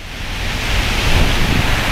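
Steady rain keeps up a dense, even hiss with a low rumble underneath, loud and continuous the whole time, with no voices.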